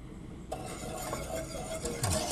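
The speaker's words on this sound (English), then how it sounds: "Stir that up." Heavy cream and sugar stirred in a bowl, a soft scraping swirl with faint utensil clinks, close and fairly quiet, running alone for a couple of seconds.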